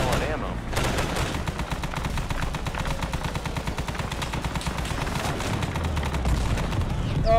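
Dense Arma 3 gunfire, rapid automatic bursts and shots running continuously and loudly through the whole stretch, with a low rumble building near the end and a voice faintly underneath.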